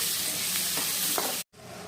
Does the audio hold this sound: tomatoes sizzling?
yes